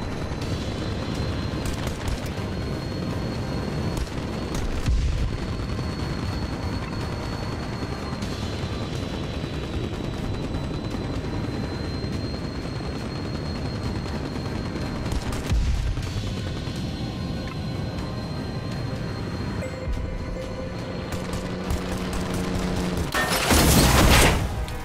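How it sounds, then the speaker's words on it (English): Heavy gunfire rains down on a fortress during an aerial combat mission in Ultrawings 2, a dense, continuous roar of shots and blasts, with a loud burst near the end. "Mayday! Our fortress is under heavy fire!"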